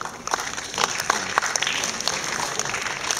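An audience at a classical concert in Cikini applauds, a dense, continuous patter of clapping with scattered louder claps throughout.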